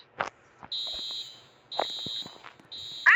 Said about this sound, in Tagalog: Pinindot ko yung fire alarm.